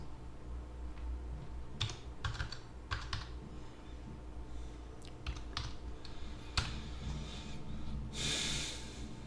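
Fingers type a command on a computer keyboard in short, uneven bursts of clicking keys, close to the mic, over a steady low hum with audible breathing nearby.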